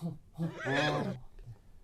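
Person mimicking a horse's whinny with the voice, a single rising, wavering neigh lasting about a second, faint and close.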